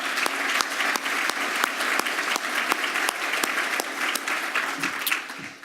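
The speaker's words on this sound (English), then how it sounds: "So let's give them one more round of applause." A conference audience gives the panel a round of applause: dense, continuous clapping with sharp individual claps standing out, steady throughout, then tapering slightly at the end.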